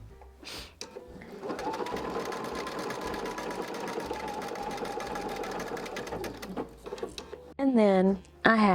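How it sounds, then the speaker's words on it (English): A sewing machine zigzag-stitches down loose flaps on a layer cake tumble quilt, running as a steady, close mechanical whir for several seconds with brief starts and stops and light talk around it. "I'm going to zigzag stitch to make sure they're down"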